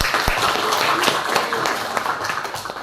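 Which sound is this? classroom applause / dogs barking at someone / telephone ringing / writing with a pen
classroom applause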